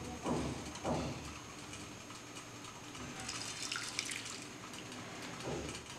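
Hot ginger coriander tea with palm sugar being strained, a steady splashing pour with a few louder spills, close and continuous with no talking.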